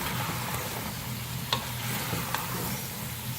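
Chicken and turnip fry in a pan with a steady, broadband sizzle, and a few brief scrapes of stirring break through about midway. No one speaks over it.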